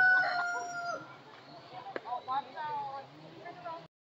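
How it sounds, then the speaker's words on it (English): A bird at a zoo calls with a loud, rooster-like crowing squawk at the start, followed by softer clucking sounds, with voices talking alongside. "Wait, it's a duck."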